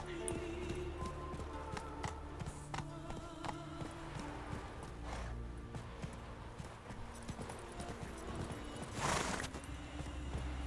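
Rapid hoofbeats of a galloping horse in The Witcher 3: Wild Hunt thud on steadily with a game-like ambience, punctuated by occasional clattering bursts; no talking.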